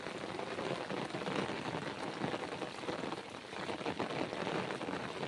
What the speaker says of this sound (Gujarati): એકદમ ફૂલ વરસાદ ચાલુ છે